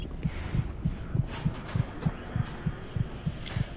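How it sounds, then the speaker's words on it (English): A game heartbeat from Doom 3 thuds in low, steady double pulses at a calm pace, close and clear over faint ambient hum, with a short bright noise near the end and no talk. "when you got the thing out, I can hear the heartbeat sound"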